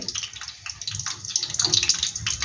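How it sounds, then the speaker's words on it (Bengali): Water pours into a cooking pot for rice, a close, steady splashing gush that lasts throughout, heard alone without talking. "এবার একটু জল বাড়িয়ে দিলাম"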